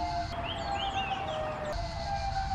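Siren wailing steadily with a sustained tone and rising sweeping overtones, loud and continuous across the moment with rumbling background, no talk.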